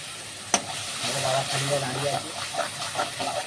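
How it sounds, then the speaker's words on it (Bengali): Spice paste for a vetki fish curry frying and being stirred in oil in a pan, a loud continuous sizzle with a sharp scrape at the start and a voice murmuring faintly beneath. "মশলাটাকে ভালো করে ভেজে এবার দেওয়া হবে পেঁয়াজ বাটা"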